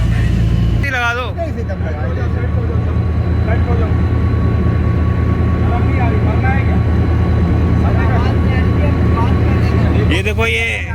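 A diesel train locomotive engine idles loud and close, a constant low rumbling drone throughout, with someone talking over it and brief higher mechanical squeals near the start and end.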